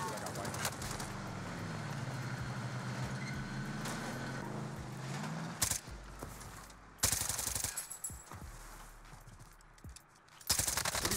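Gunshots in Call of Duty Warzone, scattered bursts of rifle fire at moderate distance over a constant ambient hum, with several louder volleys in the second half.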